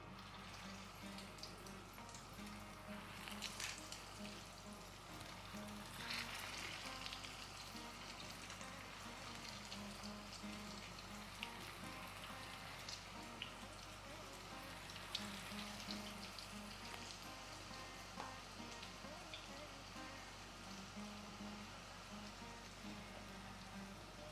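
Soya cutlets frying in hot oil over a low flame, a soft continuous sizzle and fine crackling that stays even and quiet throughout.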